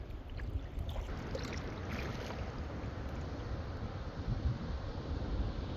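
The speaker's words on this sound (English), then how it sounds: "Can you guys hear that? The waterfall?" A waterfall rushes steadily somewhere ahead near a canoe portage on an Algonquin lake, a broad, constant roar that holds even throughout with no talking.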